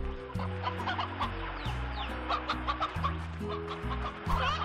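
Elder chickens in a deluxe coop in Slime Rancher, clucking busily in short overlapping bursts over steady music, with no talking.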